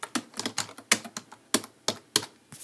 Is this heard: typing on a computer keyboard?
yes